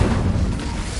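Incendio, the fire spell in the Hogwarts Legacy video game, produces a loud, dense roaring burst of flame with deep rumbling weight, lasting about a second without any speech.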